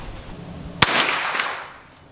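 A single sharp Remington 597 .22 LR rifle shot fired downrange at a range, a crisp loud crack followed by a short decaying echo, with no talking.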